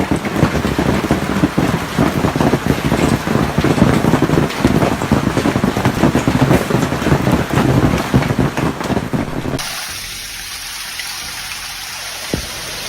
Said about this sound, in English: Amid the loud impacts of hail, a small umbrella becomes the only protection